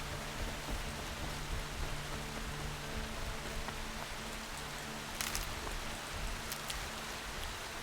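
Steady rain falls in the video game Horizon Zero Dawn, a dense, even hiss with faint low tonal hum from the game beneath and a few brighter spatters late on, with no talk.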